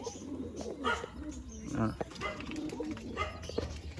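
Giribaz pigeons cooing in a pigeon sale setting, repeated soft throaty coos close by, heard under a voice talking throughout.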